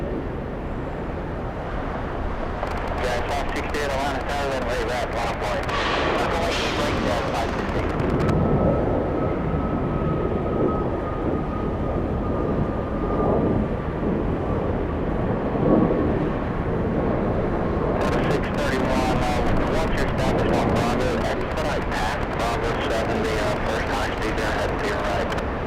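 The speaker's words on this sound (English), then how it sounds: "We have the Southwest on the takeoff roll flying to Houston" A Southwest airliner on its takeoff roll at Atlanta airport produces a sustained loud jet roar, with bursts of broadband noise at the start and end, while a person talks over it.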